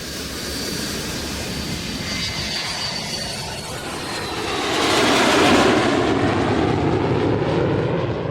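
Jet airliner Flight 305 in flight, a loud sustained engine roar that slowly swells and shifts in pitch, dramatized in a radio drama, continuous and alone throughout.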